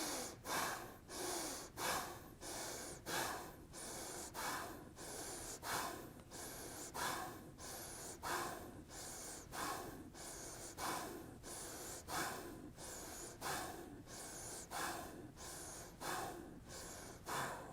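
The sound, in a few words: Bhastrika rapid forceful breathing exercise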